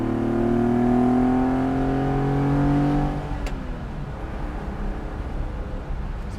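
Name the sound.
Citroen SM accelerating in second gear, carburetors opening up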